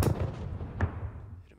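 Gunfire in a WWII strategy video game: a booming shot at the start, a second sharp report shortly after, each trailing off into a fading echo.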